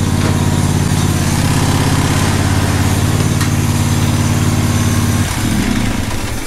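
A Husqvarna lawn mower engine runs loud and close with a steady throbbing drone, then shifts pitch near the end as it keeps going.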